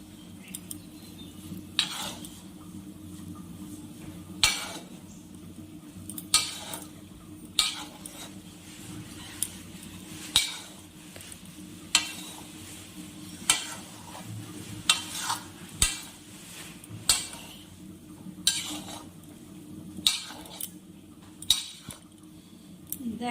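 Ghee being stirred into Gobindobhog rice pulao in a pan, a spoon scraping and clinking against the pan in a steady rhythm of sharp taps over a faint sizzle, close and moderately quiet.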